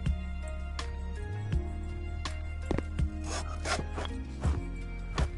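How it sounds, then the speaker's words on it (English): In the video game House Builder, a handsaw cuts wood in steady, rhythmic strokes over a constant game background hum. "Handsaw, baby."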